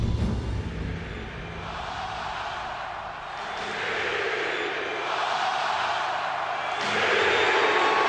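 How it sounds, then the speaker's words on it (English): Seattle Seahawks fans packed into Pioneer Square for a championship celebration, a broad distant crowd roar that swells and surges in waves, with scattered cheers and shouts over a continuous outdoor rumble. "This crowd right here is ready for a repeat."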